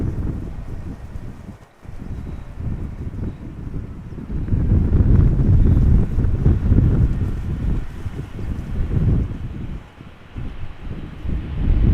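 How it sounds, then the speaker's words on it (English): Strong gusts of wind buffet the microphone at Amsterdam Schiphol Airport, a loud low rumbling roar that rises and falls with the gusts, with brief dips between them. "Oh, we had another gust of wind."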